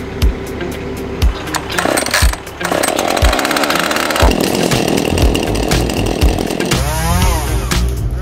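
Husqvarna chainsaw felling a tree outdoors, its engine roaring loud and steady for the whole stretch with a few revving surges, near and alone without talk.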